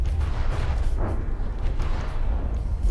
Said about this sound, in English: And some cram hits. A massive explosion in the front of the Atlas.